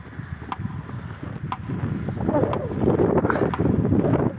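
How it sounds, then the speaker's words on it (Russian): Steady wind buffets the microphone on a cold January street in Yakutsk, Russia, a low rumbling roar that grows stronger toward the end, with faint rustling mixed in. "Ветер еще в лицо начал дуть."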